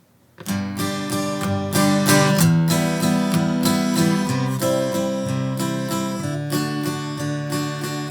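Steady strummed guitar chords in a lilting three-beat waltz pattern, full and close, playing alone without any voices.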